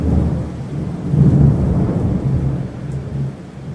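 Deep thunder rumbles and rolls for several seconds, swelling and fading, with steady rain falling in the background.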